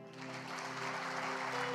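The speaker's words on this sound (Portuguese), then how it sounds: "E eu quero que você aplaude Jesus agora." Congregation applauding together in a church service, a steady dense clapping that swells slightly and holds throughout, with no talk over it.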